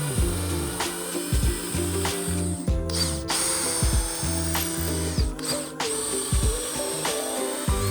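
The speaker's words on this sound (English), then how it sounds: "just pre-drill to ensure that I'm not going to split or crack any of that wood" A power drill pre-drilling wood for a removable table top whirs in repeated bursts, revving and pausing as it bores in, loud and close with no talking.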